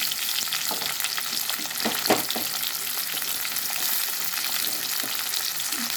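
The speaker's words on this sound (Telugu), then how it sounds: "కొంచెం నూనె కాగిన తర్వాత కస్తూరి మేతి వేసాను కదా, ఉల్లిపాయ పచ్చిమిరపకాయలు వేసుకున్నాం" Onions and green chillies frying in hot oil with kasuri methi for a cauliflower-tomato curry, a continuous close sizzle with a few sharp spoon scrapes and clicks, no voices.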